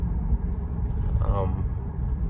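Lowered 2009 Lexus GS350 AWD driving through city streets, a steady low road and engine rumble filling the cabin, with a voice talking over it.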